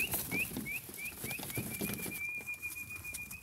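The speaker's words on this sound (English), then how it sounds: "This whistle and the rattling of snacks, a combination they cannot resist." A series of short rising whistle notes calling goats repeats, then settles into one long sustained whistle, over soft rattling and shuffling of snacks.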